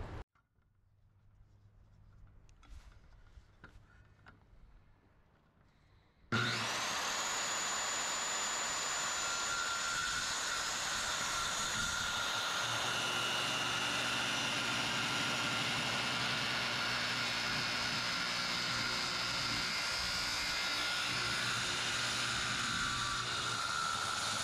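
A power saw cuts through a wooden patio roof beam, bursting in loud and close after some quieter handling noises, then running as a steady, dense whine with no break until the end.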